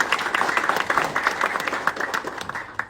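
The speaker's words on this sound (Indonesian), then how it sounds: "Jadi saya minta tolong semuanya tepuk tangan kali." Audience applause during a meeting between Azrul and Persebaya supporters, a dense, steady wash of many hands clapping at moderate loudness, continuous throughout with no break.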